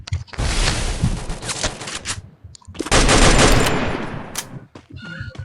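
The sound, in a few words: M249 machine gun fire in a video game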